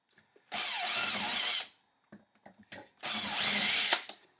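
A hand drill bores string and ferrule holes in a guitar body, two loud whirring bursts of about a second each, separated by small clicks and knocks.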